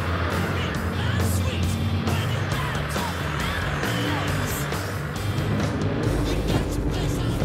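A 4WD vehicle drives over a dirt test track, giving a loud, constant engine rumble mixed with rough tyre and chassis noise. The sound stays close throughout with no clear pauses.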